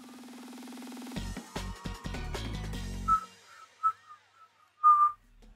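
Someone whistling: a sustained tone breaks into a quick run of choppy, clicky notes, then a few short, bright whistled pips follow with pauses between them, close and clear.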